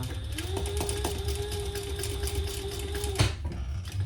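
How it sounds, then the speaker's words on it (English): A sewing machine runs a steady close whirring stitch as it sews backpack webbing in place, a sustained mechanical hum with a rapid needle rhythm that cuts off near the end. "I'm going to just sew these in place based on that angle."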